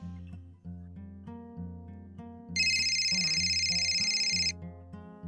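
A synthesized phone ringtone starts over a steady tonal melody, ringing loud and bright for about two seconds before cutting off.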